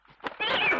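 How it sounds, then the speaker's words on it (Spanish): A mother cat with kittens gives one close, loud meow that swells and holds, heard in an old 1945 film scene with a brief voice just before it. "La gata tuvo gatitos y andan por todas partes."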